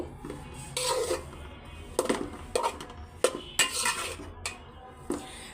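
Metal spatula scraping and clinking against a pan while lentils are fried for halwa, irregular knocks and clatters at moderate distance over a low background hiss, with no talk.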